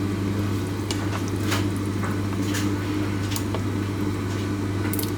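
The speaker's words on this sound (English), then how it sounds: "Just give it a stir." Chunky leek, carrot and potato soup being stirred in a pot, a steady low simmering hum with soft wet sloshes and faint scraping clicks throughout.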